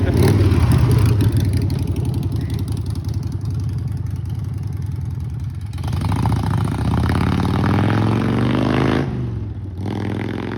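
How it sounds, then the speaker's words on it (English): Motorcycles on a short local ride around West Seattle, their engines droning steadily at mid pitch with rising and falling revs, loud and close with wind and road noise throughout. "we took the bikes out for a spin on a short local ride"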